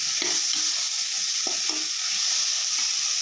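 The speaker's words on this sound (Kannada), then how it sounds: "ಈಗ ಚೆನ್ನಾಗಿ ಫ್ರೈ ಆಗ್ತದೆ." Chicken sambar masala fries in coconut oil over a low flame, with a steady close hiss of sizzling and intermittent soft scraping as it is stirred, with no voices.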